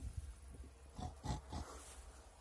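A pig grunts in a few short, low oinks spaced through the moment, fairly faint and close, with no talking over it.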